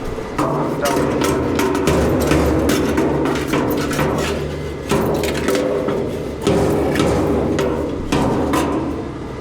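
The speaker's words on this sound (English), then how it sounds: "Do a little hammering." Rapid hammer blows strike a Ford F100's sheet-metal body panel close up, in quick bursts of ringing, clanking hits separated by short pauses.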